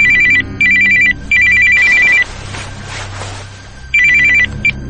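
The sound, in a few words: telephone ringing at night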